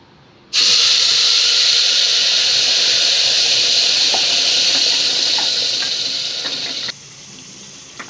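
Masala paste for a spicy chicken curry sizzles loudly in hot oil in a pan, a steady bright hiss that starts abruptly and continues for several seconds before dropping to a quieter simmer.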